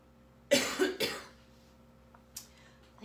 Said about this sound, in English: I start sniffing and I start coughing